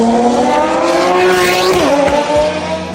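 A Ferrari FXX with a 6.2-litre V12 of about 800 horsepower roars loud and close, its pitch climbing steadily before dropping off sharply near the end.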